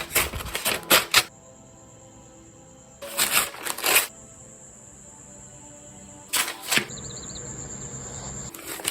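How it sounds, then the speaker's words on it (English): A GLIDR Original 3 butterfly knife trainer slices through paper: bursts of crisp, rapid rustling and scraping strokes come in three separate bursts, close and fairly loud, with quiet stretches between them. "Let's see how it cuts paper."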